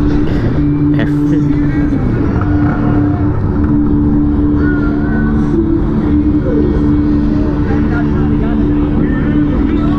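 A steady engine drone from a 2018 Honda CB500F motorcycle cruising at an even pace, with a low, constant hum running throughout, loud and close.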